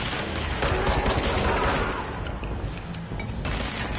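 Rapid gunfire in the video game Control, a dense, loud volley of shots and booms that fills the whole stretch, dipping briefly near the end before resuming.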